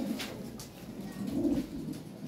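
Fancy pigeons kept for sale coo softly nearby in low, rolling throaty phrases that swell and fade, with faint background noise and no talk.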